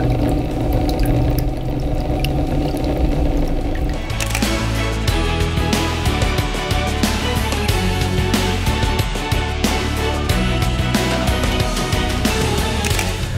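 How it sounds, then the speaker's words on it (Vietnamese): A OneJet pedicure jet motor switches on partway through and churns water in the basin, giving a dense, steady rushing and bubbling that stays loud and continuous to the end, with no speech. "Và bây giờ chúng ta sẽ mở cái motor"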